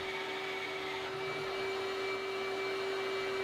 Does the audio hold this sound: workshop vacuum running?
yes